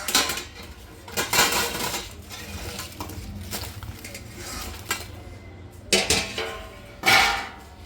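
Dishes and cutlery clatter in a home kitchen during cleanup, with scattered clinks and a few louder clanks standing out near the end; no one speaks.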